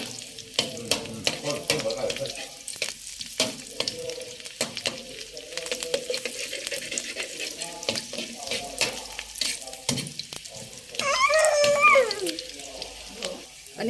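Cauliflower is stir-fried in a wok with fried garlic and egg: scraping spatula strokes and clattering rhythmically over a sizzle, with a splash of liquid near the end and someone talking throughout.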